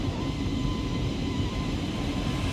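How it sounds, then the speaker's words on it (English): A Lufthansa airliner on its takeoff roll for a flight to Warsaw gives a steady, loud, broadband engine roar with a strong low rumble and a faint whine, continuous and unchanging throughout. "At 2:27 p.m. the plane takes off, beginning its last flight to Warsaw Okęcie Airport."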